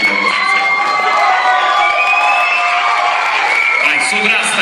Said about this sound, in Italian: sfogate quanto volete, adesso urlate un pochino